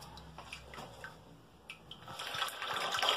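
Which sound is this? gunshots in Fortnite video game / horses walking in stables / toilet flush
toilet flush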